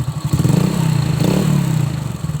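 A repaired Honda Supra X motorcycle engine runs steadily at close range, a continuous low throbbing idle with a faint mechanical clatter, loud and alone with no voices.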